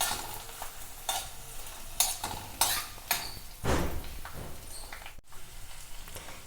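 Garlic and red chilli chutney mixture stirred in a pan for a Rajasthani red chutney, with several scraping, clattering strokes against the metal over a faint sizzle, close and fairly quiet, no talking.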